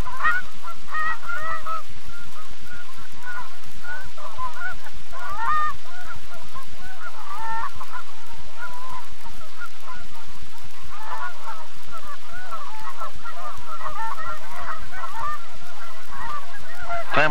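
Flock of giant Canada geese at a fall staging area on the Manitoba prairie, honking loudly and continuously in overlapping calls close by, no talk.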